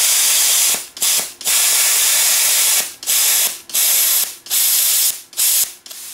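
Everlast Power Plasma50 plasma cutter blasting compressed air in loud, steady hissing bursts, about seven of them cut off by short pauses with a faint click at each stop, close up.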